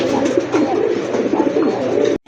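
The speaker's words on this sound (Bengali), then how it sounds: "মাশাআল্লাহ খুবই ইউনিক কালারের একটা কবুতর" A red bar pigeon, one of a range of local and foreign fancy pigeons up for sale, coos in a steady, rolling series of low notes, close and fairly loud, with no talk, ending abruptly.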